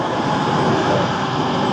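A train rumbles steadily nearby at a station platform, a loud continuous roar of rail noise with no talking.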